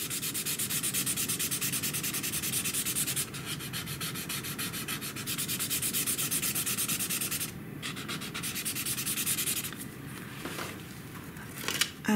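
Pencil or pigment shading rubbed onto art journal paper, a steady close scratchy rasp running almost continuously with brief lighter pauses near the end, no voices.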